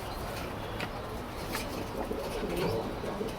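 Domestic pigeons in a home loft coo in a steady, low, overlapping murmur, with soft rustling and a few faint chirps throughout, close and continuous.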